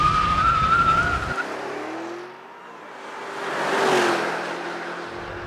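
A 2013 BMW Alpina B7 braking hard from 60 mph, a loud tire squeal and road roar that dips briefly, then swells again as the car slows, with no talk.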